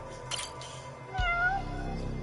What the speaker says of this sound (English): Oh, look, a cat. Found it. It was a stray.